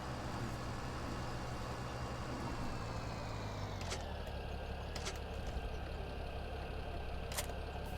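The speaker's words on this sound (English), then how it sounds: "Can barely steer the tractor." Tractor engine idling in a farming game, a steady low drone with a tonal whine that drops in pitch partway through, followed by a few faint clicks, with no talking.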